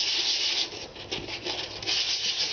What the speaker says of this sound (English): and start sanding like this.